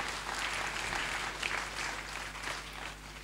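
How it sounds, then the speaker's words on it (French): A crowd at a school award ceremony applauds in a steady wash of fairly faint clapping with a low hum underneath, holding at the same level throughout. "sur vos applaudissements, s'il vous plaît."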